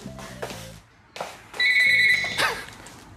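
A parrot imitates a ringing telephone in an apartment, giving several bright electronic trills between short pauses, close and fairly loud.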